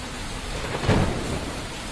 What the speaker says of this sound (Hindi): तेज हवाओं और बारिश के कारण मुंबई में जनजीवन प्रभावित हुआ।